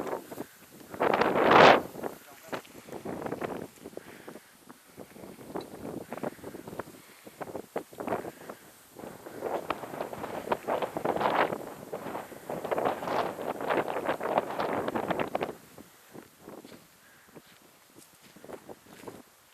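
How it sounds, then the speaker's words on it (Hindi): Strong wind on a mountain path buffets the microphone in loud, rough gusts that swell and fade, with faint rustling and possible footsteps between them and no talking. "क्योंकि तेज़ हवा है"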